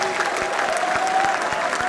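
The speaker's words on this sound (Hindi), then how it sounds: "अपने लिए एक बार जोरदार तालियां बजाएं।" Loud, sustained applause from a large audience at a university degree distribution ceremony, many hands clapping steadily with a faint tone and murmur underneath.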